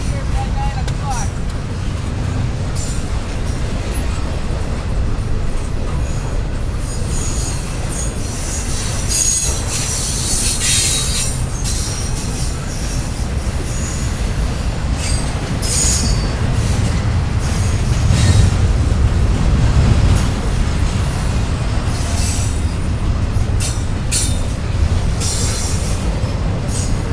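A Pan Am Railways freight train, 22K, rolls past close by, a loud steady roar of wheels and rail cars with squealing wheels and clickety-clack over nearly half a minute, while a voice talks underneath.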